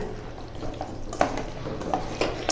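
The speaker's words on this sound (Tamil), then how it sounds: "அதனால நல்லா கிண்டிக்கோங்க" Chilli chicken coated in masala being stirred in a pan, with scraping clinks of a spoon at intervals over a low steady sizzle, close by and moderately quiet.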